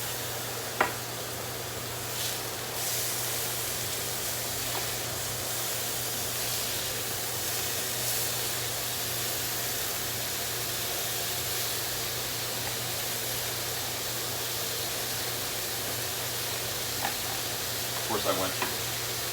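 Hamburger patties sizzle in a pan on a stove burner, a loud, continuous frying hiss with occasional clicks and scrapes of flipping, and someone talking briefly near the end.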